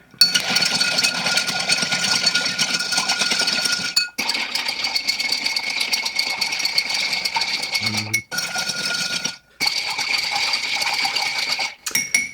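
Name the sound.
stirring a Campden cocktail with ice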